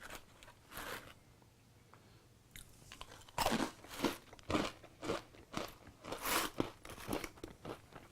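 Doritos Crunch Nuts, salty flavored peanuts, crunch loudly and close up in a rapid series of bites and chews after a quieter opening.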